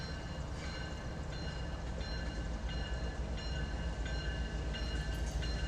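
A train rolls past on the Big Sandy subdivision at Ford's Branch with a continuous low rumble and faint rhythmic clicks of wheels over rail joints, steady and fairly close, with no voices.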